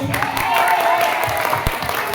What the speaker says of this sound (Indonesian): Sekali lagi tepuk tangannya untuk Gabe